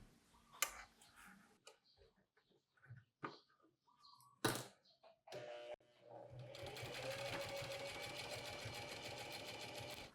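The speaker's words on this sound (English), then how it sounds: "clip them together, and sew about a 1/8 inch seam all the way around the perimeter" A sewing machine stitches a seam around a nylon utility pouch, starting after scattered soft clicks and handling knocks, then running in a steady, close, fast mechanical whir for several seconds at moderate level.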